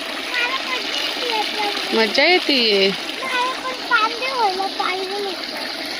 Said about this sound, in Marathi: सकाळी कांद्यांना पाणी देणं चालू आहे इकडे.